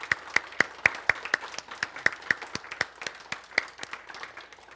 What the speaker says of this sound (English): So let us all stand and let us applaud her.